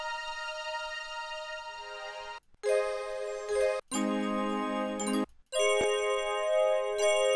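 A bell preset from the Xenology synth plugin rings out in short bright tonal bursts with clear harmonic overtones, several separate chime-like notes with brief silences between them, clean and up close with no talking.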